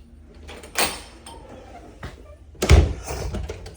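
In a house being inspected for repairs, a door opens and shuts: a creak and knock, a light tap, then a heavier closing thud, close by and under faint room noise.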